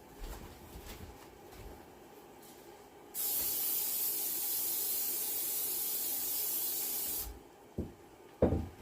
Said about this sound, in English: let me start by spraying my casserole dish